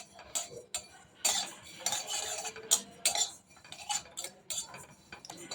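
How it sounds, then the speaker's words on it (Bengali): Cumin and fennel seeds being lightly fried in a pan: a spoon or spatula repeatedly clinks and scrapes the pan in busy bursts, with a faint frying hiss beneath, close and fairly quiet, without talking. "এখন আমি এখানে করার মধ্যে জিরে মৌরি সব দিয়ে দিচ্ছি একটু হালকা করে ভেজে নিচ্ছি"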